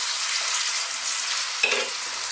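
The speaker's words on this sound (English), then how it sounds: "I'm just going to give that a little mix and fry this around first" Chopped onion frying in a pan: a dense, close, steady sizzle, broken near the end by one short scrape and knock as it is stirred, with no voices.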